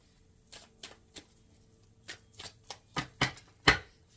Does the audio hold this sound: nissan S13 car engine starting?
no